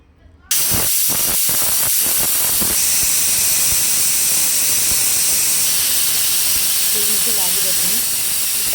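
A pressure cooker cooking bisi bele bath lets out a sudden loud, sustained hiss of steam that starts abruptly and holds steady, with a few faint knocks early on.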